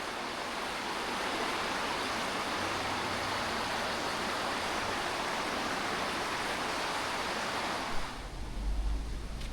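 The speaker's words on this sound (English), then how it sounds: "Swift water. A lot of snow melt still going." Swift snowmelt river water in the Colorado Rockies rushes in a steady, loud roar close by, with a low rumble joining near the end.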